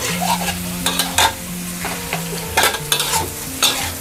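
Egg tofu stir-fried in a pan with chili, celery and scallion: steady close sizzling with repeated scraping stir strokes, no talking.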